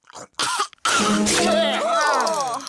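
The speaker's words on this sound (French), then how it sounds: "quand on tousse, on met sa main devant sa bouche" A few harsh, short coughs up close from a boy with a cold, followed by a voice speaking in a strained, rough tone.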